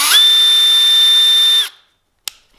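A Milwaukee M12 Fuel drill whines steadily and loudly at its low-speed setting for under two seconds, then winds down to silence before a single sharp click.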